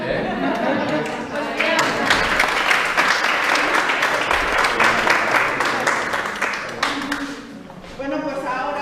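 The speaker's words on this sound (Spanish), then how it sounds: "Sí, y un aplauso." Audience applause at a public information talk and debate on work-life balance, a sustained wave of many hands clapping that swells, holds for several seconds, then fades under murmured chatter and a few chuckles.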